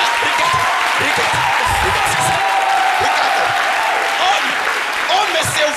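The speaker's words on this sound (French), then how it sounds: "On applaudit pour Dieu, s'il vous plaît." A church congregation claps for God during a French-language service, loud sustained applause with scattered cheers and voices mixed in.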